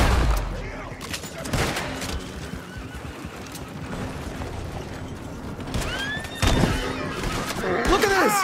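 Sharp gunshots from Red Dead Redemption 2 crack out several times amid whinnying, neighing horses and clopping hooves during a bison hunt, with someone talking over the game sounds.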